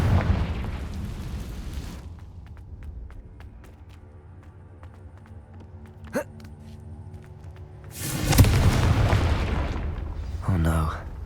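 A Confringo blasting spell goes off in Hogwarts Legacy: a loud, broad explosive burst, then sustained game music, then a second heavy blast near the end with crackling debris.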